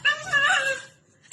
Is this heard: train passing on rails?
no